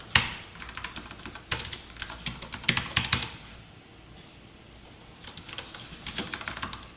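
Python code being typed on a computer keyboard: quick bursts of close, crisp keystrokes, then a pause near the middle, then another run of tapping, with no talking.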